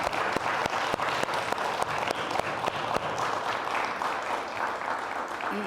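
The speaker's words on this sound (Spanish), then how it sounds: "pedir que todos le aplaudamos" Dense applause from an audience honoring a professor at a public event, steady clapping throughout with a few sharper individual claps standing out, no speech.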